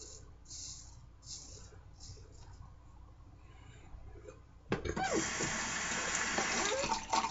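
Water from a tap suddenly begins running and keeps flowing steadily and loudly for a few seconds while being added to shaving soap. A few soft, rhythmic handling sounds come before it.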